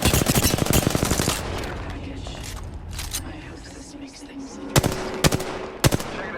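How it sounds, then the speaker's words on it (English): Automatic gunfire in the battle royale shooter Apex Legends: a long rapid burst up front, then a few isolated sharp shots later, with voices talking faintly in between. "Shots fired."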